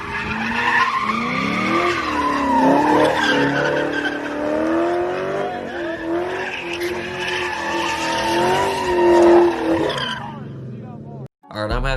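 A Camaro drifting, with long wavering tire squeal and engine noise rising and falling across the run, loud and continuous before cutting off abruptly near the end.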